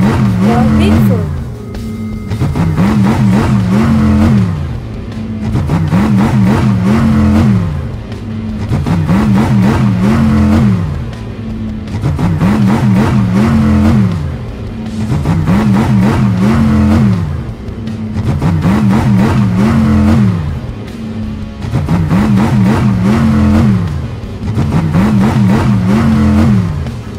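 Cartoon monster trucks race on a track with engines revving loudly, in a steady repeating surge that rises and falls every few seconds over a continuous mechanical roar.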